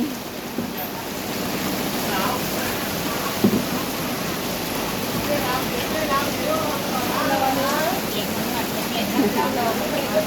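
Heavy rain pours steadily as a dense, unbroken hiss throughout, with faint voices underneath.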